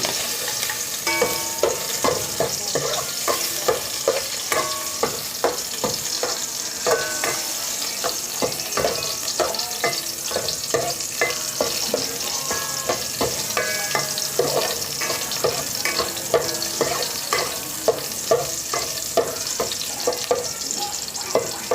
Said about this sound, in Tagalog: atin ang igisa ang bawang